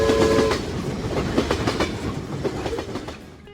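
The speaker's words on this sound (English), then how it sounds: "Train." A train rolls past with a rumbling, rhythmic clickety-clack of wheels over rail joints, loud and close at first with a brief horn-like tone, then gradually fading as it moves away.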